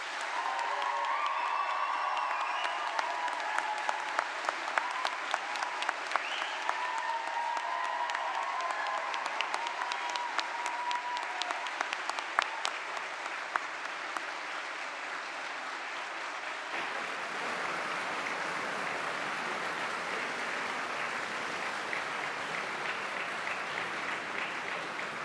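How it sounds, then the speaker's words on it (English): Sustained applause from a large congregation fills a hall at a university summer graduation ceremony, a dense even clapping that carries on steadily without pause and shifts in tone partway through. "Let them hear your heartfelt thanks with a very big round of applause"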